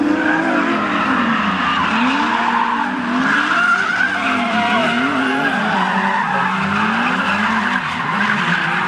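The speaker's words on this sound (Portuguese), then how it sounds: "Olha, os 4 carros vão vir aqui, né, fazer o traçadinho." Several Nissan 350Z drift cars skid through a drift run, with loud, continuous tire squeal that wavers and swoops in pitch over steady engine roar for the whole stretch, and no speech.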